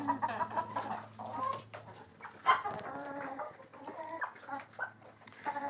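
Hens cluck in a cleaned and enlarged village coop, giving close, repeated squawks and clucks in uneven bursts with brief quieter gaps between calls.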